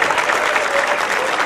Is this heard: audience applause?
yes